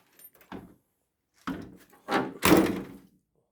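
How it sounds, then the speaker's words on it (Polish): Several dull thunks of a Syrena 104 car door shutting, a couple of light knocks followed by two heavier slams in quick succession, close by, with no talking. "Ale drzwi się zamykają, to nie jest tak źle."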